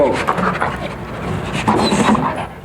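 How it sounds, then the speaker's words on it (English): A police narcotics-detection dog searching school lockers sniffs and pants rapidly up close, with quick breathy huffs running throughout, while a person talks over it. "dogs sniffed at hundreds of lockers up and down the rows they went"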